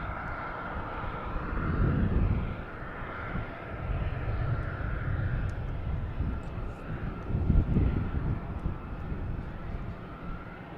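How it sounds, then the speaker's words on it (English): An American Airlines Boeing 737-800 bound for Charlotte at Boston Logan Airport, heard as a broad continuous jet engine roar that swells and fades over about eleven seconds, heavy in low rumble, with no talk. "We have American Airlines here heading to Charlotte. 737-800."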